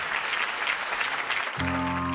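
Audience applause on the Telugu TV singing show Paduthatheeyaga, a fairly faint steady patter of clapping that gives way to a sustained musical tone near the end.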